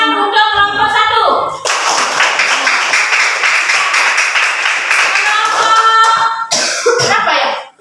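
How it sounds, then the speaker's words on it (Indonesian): A school class claps for a student group, a burst of clapping in the middle framed by voices and a cough at the start and end. "Kita berikan tepuk tangan untuk kelompok 1."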